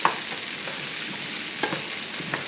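Mushrooms and pearl onions fry in a pan for coq au vin, giving a steady close sizzle with a few brief stirring clatters and no voices.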